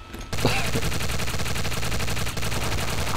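Luger pistol fire in the video game Garry's Mod: a sustained, loud stream of rapid gunshots runs almost without a break, with one short dip near the end.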